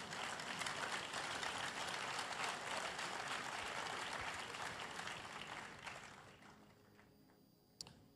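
Applause from a church congregation during a sermon, dense steady clapping that holds loud for about six seconds, then thins and fades out.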